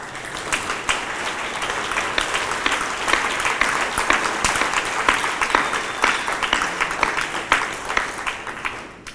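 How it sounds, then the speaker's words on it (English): A conference audience at an anniversary event claps warmly, a full, continuous patter of many hands that holds steady and fairly close for several seconds without any talk. "I don't know why you are clapping"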